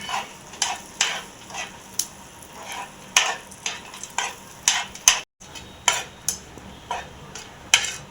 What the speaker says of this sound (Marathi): आणि बटरमध्ये बघा हे काजू बदाम आपण चांगले भाजून घेऊया